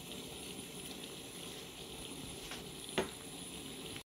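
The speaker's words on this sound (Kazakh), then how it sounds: "Жайлап қайнап жатыр." Water with bay leaves simmers gently in a pot, a soft, even bubbling hiss that stays faint and steady, with one brief clink near the end before it cuts off.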